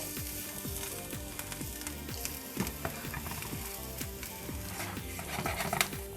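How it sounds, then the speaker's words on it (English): Shallots sizzle steadily in olive oil in a hot pan, a continuous close-up crackle with occasional stirring scrapes and light clinks. "Added our shallots into our hot pan with some olive oil."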